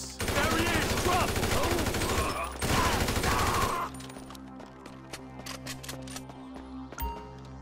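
Rapid bursts of gunfire in Grand Theft Auto V, a dense loud volley for the first few seconds, then a brief gap and a second heavy burst before it drops to quieter in-game ambience with scattered clicks.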